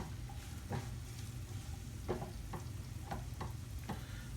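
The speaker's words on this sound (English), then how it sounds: "I'm going to give this a stir." Fresh red pepper sizzles steadily in a hot pan with a gentle frying hiss, broken by several soft scraping stirs of a utensil against the pan at irregular intervals, close by and with no talking.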